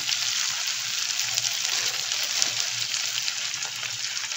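Kasuri methi and asafoetida frying in a pan during preparation of tandoori potato bharta: a steady, fairly loud hiss of sizzling oil with faint crackles, continuous and alone without talk.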